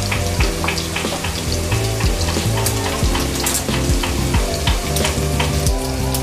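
Cinnamon sticks and white and black cardamom pods tossed into chopped onions frying in oil for hilsa khichuri, a steady close sizzle with scattered crackles and scraping spoon clicks throughout, with no talking.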